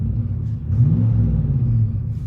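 Truck engine rumbling through a Valvetronic Designs universal muffler exhaust with the valve open, a deep, close, steady low drone that swells briefly as it revs, heard alone.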